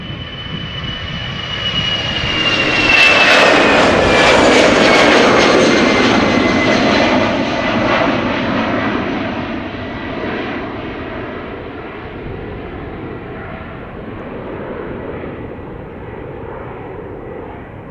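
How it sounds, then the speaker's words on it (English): An EasyJet Airbus A319 jet bound for London Stansted passes at Schiphol Airport, its engine roar peaking loudly early with a falling whine, then slowly receding into a distant rumble. "this is the EasyJet A319 to London Stansted, the OELQF, with some nice cloudy backdrop"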